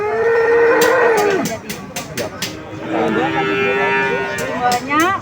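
Cattle at the Jatinom livestock market in Klaten, ahead of Eid al-Adha, give several long, loud, drawn-out moos one after another, with a dense murmur of market voices and activity underneath.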